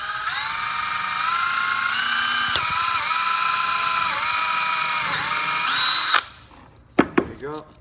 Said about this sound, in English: Grab a drill bit that bores the hole, start drilling.